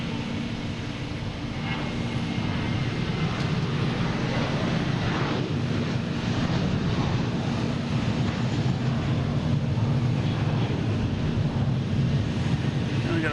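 A FedEx airplane departing Boston Logan International Airport, its engines a broad, steady roar that holds fairly constant throughout, heard from a distance with some wind on the microphone.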